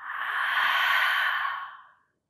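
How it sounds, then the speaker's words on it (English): A long, deep exhale through the mouth at the end of an aerial yoga stretch session, close and breathy, swelling and then fading into silence after about two seconds. "Inhale deeply through the nose. Exhale by the mouth."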